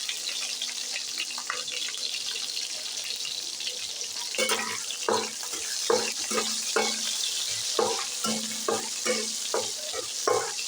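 Onion goes into hot oil while cooking rayo saag, Nepali mustard greens. A low hiss turns into a sharp burst of sizzling about halfway through, followed by rhythmic stirring scrapes and crackles, close and clear, with no voices.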